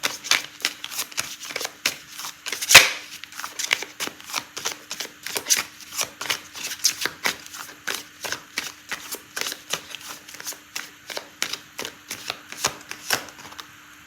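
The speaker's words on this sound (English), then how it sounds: "And I'm going to pull out a card for timing." Tarot cards are shuffled by hand in a long run of quick, crisp riffles and slaps, evenly paced and close up, with no talking.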